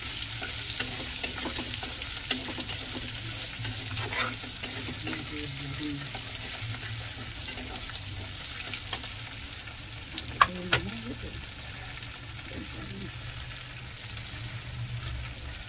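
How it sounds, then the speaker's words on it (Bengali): Cashews, raisins and two whole dried chillies frying in oil for egg curry, a steady crackling sizzle with scattered spatula scrapes and a couple of louder clinks, close and without talk. "এই কাজু দিলাম, এই দুটো সাবুত মির্চি দেব। সাবুত মির্চি দিলাম, এটা একটু হেলাতে থাকবো।"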